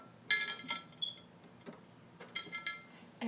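Glass gems clink and tick against each other and against a large glass mason jar in a few bright, close bursts separated by short quiet gaps.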